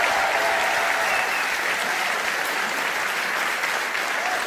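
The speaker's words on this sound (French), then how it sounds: "je veux que vous l'applaudissiez, David Rachlin, le maire de Fréjus" A large rally crowd applauds the mayor of Fréjus, a steady, dense wash of clapping sustained without pause, fairly loud and even throughout.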